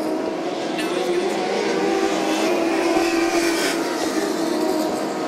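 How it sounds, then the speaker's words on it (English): Limited midget race cars and sprint cars roar around a dirt track, a continuous mid-distance engine drone that swells and fades as they pass, with an announcer speaking over the noise. "He's going to go topside now to get around Tom Downing in turns 1 and 2"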